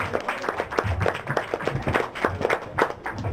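Applause from an open mic poetry audience for a poet: steady, dense clapping from many hands, close and continuous, with faint crowd noise underneath.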